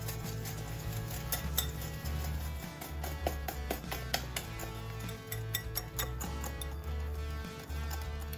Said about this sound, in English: Add in 1/2 cup of granulated sugar and 1/2 cup of light brown sugar. And whisk that together.